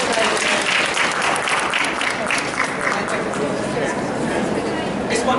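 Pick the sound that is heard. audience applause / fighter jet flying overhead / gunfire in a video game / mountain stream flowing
audience applause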